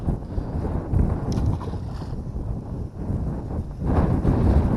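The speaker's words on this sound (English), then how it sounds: "that wind's ripping!" Strong wind gusting at a pond during a bass fishing outing, a loud continuous roar buffeting the microphone that swells again near the end, no voices heard.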